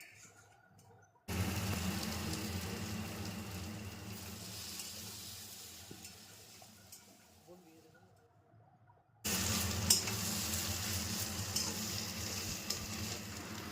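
Kochu (taro) curry sizzles and fries in a pan, with a steady hiss that drops away partway through and then returns loudly as the lid comes off and the pan is stirred.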